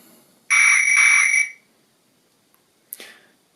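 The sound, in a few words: guard's whistle sound from model train speaker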